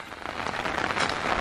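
Steady rain falls over a muddy horse field, a dense, even hiss of drops striking the ground and nearby surfaces, close and constant throughout without any voices.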